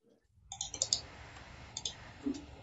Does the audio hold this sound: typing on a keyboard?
yes